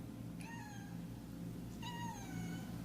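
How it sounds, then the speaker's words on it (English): A cat meows twice, each call a clear drawn-out cry with a falling tail, heard alone over a steady low hum. "I hear a cat."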